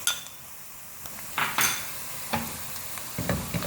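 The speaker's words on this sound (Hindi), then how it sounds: "प्याज के साथ ही फ्राई करेंगे।" Onions frying with ginger garlic paste in a pan for a potato and chicken stew, a soft steady sizzle broken by several sharp clinks and scrapes of a utensil against the pan.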